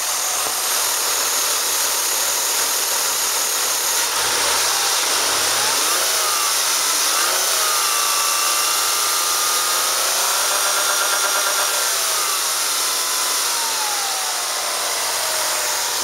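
A 2001 Ford Taurus with a 3.0 dual overhead cam engine and 157,072 miles idles loudly and close, a steady drone with a few rising and falling revs.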